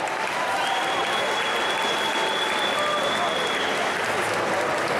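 A crowd at a cosplay contest awards show in Budapest claps loudly for a judge taking the stage, steady applause throughout with faint voices and a whistle-like tone mixed in.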